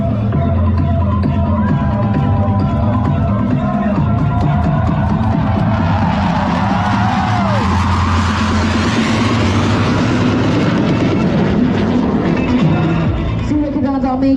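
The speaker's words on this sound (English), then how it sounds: "coming in soon is Surya Kiran 7 to show off the 360-degree view of this aircraft" A Surya Kiran Indian Air Force aerobatic jet flies at an air show at Shangumugham, Thiruvananthapuram, making a loud, sustained roar that swells and sweeps past over a continuous background of crowd noise.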